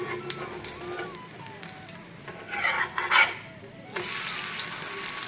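An apple pancake cooks in a pan with a soft, close sizzle and occasional utensil taps, and the frying hiss turns brighter and louder near the end.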